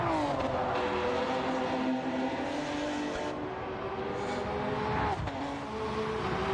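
Honda NSX GT500 race car in a racing video game, its engine revving high and steady with rising and falling pitch as gears change, loud and close, with faint tire noise.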